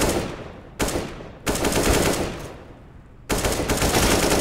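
Dense, loud automatic weapon fire from a competitive CS:GO Pro League match rattles in sustained bursts with short pauses between them, close and aggressive.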